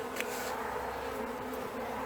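Honey bees in an opened hive in Newfoundland in March hum in a soft, steady drone, with a few quick bees passing close.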